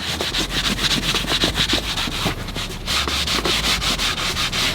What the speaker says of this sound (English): I'm literally just holding the scrub pad on top of the surface and going over